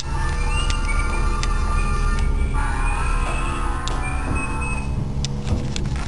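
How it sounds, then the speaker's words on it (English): Macy's department store elevator closing its door automatically and starting to move, with a sliding door rumble, a few short chimes or beeps and a steady low mechanical hum beneath, close and continuous. "The elevator closes automatically."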